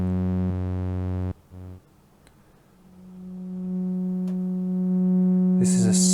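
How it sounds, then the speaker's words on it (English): An EMS Synthi oscillator in VCV Rack sounds a steady pure sine tone, first a low hum that cuts off, then a single sustained mid tone with faint blips, ending in a brief bright noisy burst. "This is a sine wave. This is pure sine."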